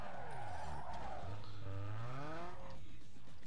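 Tires squeal as a car drifts in the video game Need for Speed Underground 2, a short, rising and falling screech with engine tones, fairly faint.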